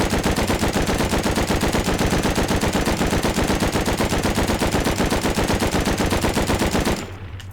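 Sustained full-auto AK rifle fire in the Rust Console video game, a dense, loud stream of rapid shots lasting about seven seconds before cutting off abruptly.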